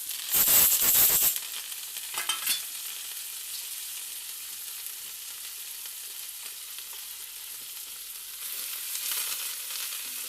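Chillies, coriander, cumin and curry leaves fry in a pan for a coriander chutney, with no onion or garlic. A steady close sizzle and hiss has a louder crackling burst at the start and swells again near the end.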